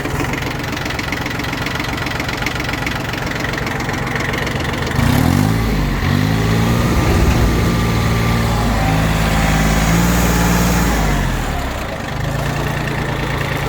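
A Yanmar F1 mini tractor engine starts partway through and settles into a loud, steady, knocking idle nearby, preceded by a rough mechanical clatter and with no talking.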